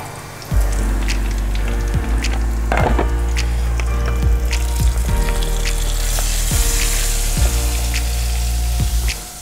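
Soft-shell crab sizzles steadily in hot grease, New Orleans style, a dense close crackle and spatter with occasional louder pops and bursts throughout.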